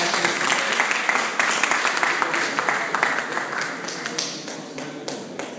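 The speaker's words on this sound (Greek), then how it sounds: "Να χειροκροτάμε στα Χανιώτη και την περασμονοπαίδη." Audience applause at the opening of a November photography exhibition in Chania: steady dense clapping from a crowd, loud and continuous, fading slightly toward the end.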